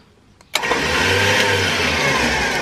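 An electric winch on the front of a ute starts with a click and then whirs steadily as it spools out, a loud close motor drone with no talk.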